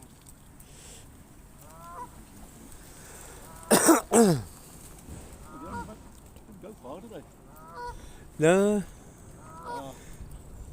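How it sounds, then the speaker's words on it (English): White geese honking loudly in a park during bird feeding, a few strong bursts standing out among scattered softer calls, with people talking briefly nearby. "They've gone up there because the geese are coming out."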